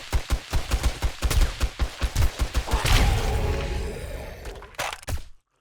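Rapid rifle shots from 7 Days to Die, fired as a long run of sharp, evenly spaced cracks that ring out loud with no voices, then trail into a rumbling echo and a last brief burst before cutting to silence.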